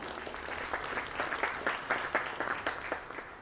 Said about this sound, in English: give them a nice round of applause to welcome them?